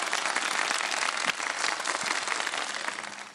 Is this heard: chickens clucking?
no